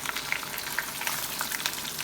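Small onions and garlic sizzle and crackle steadily in hot oil for sambar-style turkey berry kuzhambu, a continuous close frying hiss with small pops, no talking.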